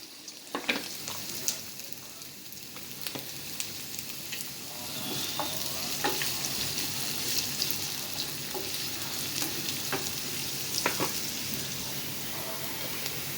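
Onions frying in hot olive oil for ginisang ampalaya with eggs, a sustained close sizzle with occasional crackles and pops, faint voice traces underneath.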